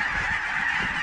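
Snow geese flying in during a hunt honk in a dense, continuous chorus of overlapping calls, steady and fairly loud across the whole moment.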